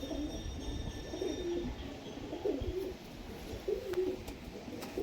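Racing pigeons coo in low, repeated rolling calls, faint and close, with quiet background noise and no voices.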